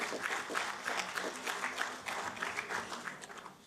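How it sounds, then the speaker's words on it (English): A hall audience at the MSME-CCII National Business Excellence Awards in Vigyan Bhavan, New Delhi, applauds steadily to welcome an award presenter, the dense clapping sounding somewhat distant and sustained throughout. "Can we have a huge round of applause to welcome Ms."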